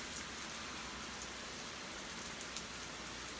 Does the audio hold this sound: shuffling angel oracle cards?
no